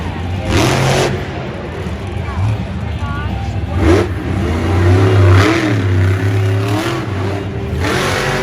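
Monster truck engine at a Monster Jam stadium event in Anaheim revving in repeated surges, loud and continuous, with commentators talking over it.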